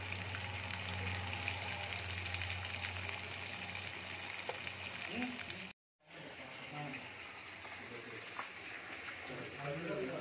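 Fish fries in hot oil at home with a steady, dense sizzle and crackle. The sound cuts out briefly midway, then resumes.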